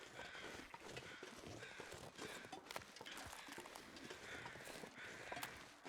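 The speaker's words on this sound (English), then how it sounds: "Those crows are flying away." Crows cawing in the snowy wilderness of the survival game The Long Dark, scattered calls over a constant wind-like ambience with crunchy footstep-like noises, faint and distant.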